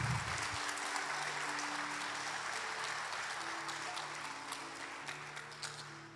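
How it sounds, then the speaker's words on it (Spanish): A church congregation claps together during a worship service, a full, sustained burst of applause that carries steadily, with faint tonal sounds beneath. "Den el aplauso al Señor."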